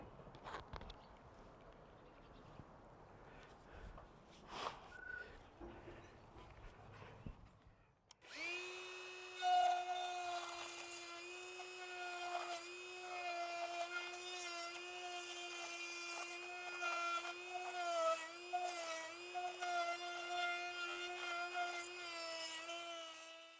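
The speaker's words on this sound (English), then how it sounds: "a die grinder with a router bit on the top, and we'll start routing out the rot" A die grinder fitted with a router bit cuts rotten wood out of a window: quiet handling noises at first, then the tool starts with a steady high whine that wavers as it bites into the timber for the rest of the span.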